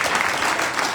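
Steady applause from a church congregation fills the whole moment, dense and even with no gaps, close and fairly loud.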